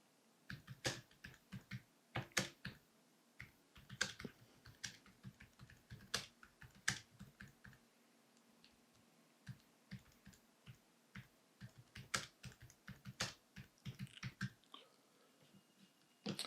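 Fingers typing caption text on a computer keyboard, quiet and close, in irregular bursts of crisp key clicks with short pauses between them.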